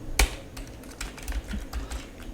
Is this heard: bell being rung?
no